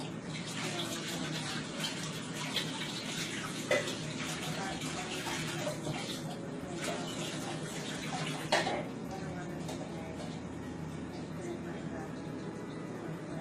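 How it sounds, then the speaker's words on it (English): Tap water runs steadily into a sink while hands are washed beneath it, a continuous close splashing rush with a couple of brief knocks, in a home kitchen during cookie baking. "Let me wash my hands."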